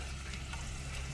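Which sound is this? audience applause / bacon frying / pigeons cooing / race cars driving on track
bacon frying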